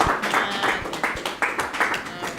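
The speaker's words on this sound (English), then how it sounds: "Everybody clap for Ms. Tavares" A small group claps for a teacher after an interview, a brief scattering of uneven hand claps close by, with voices mixed in.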